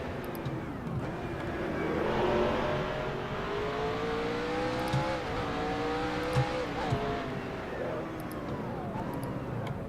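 A race car in the NASCAR Racing 2003 game, a Toyota at Sonoma, whines through shifting engine revs with tire spin and faint squeal, steady and moderately loud, while a voice talks over it.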